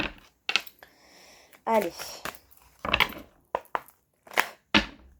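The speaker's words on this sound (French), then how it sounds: "là je les mélange comme ça devant toi" Tarot cards being shuffled by hand, a series of short crisp riffling and tapping bursts with brief pauses between, close and fairly quiet, with a single spoken word among them.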